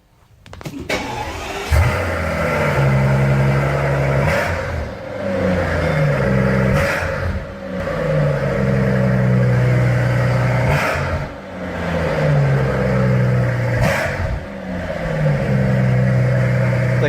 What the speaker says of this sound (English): cold start this thing and rev it a little bit.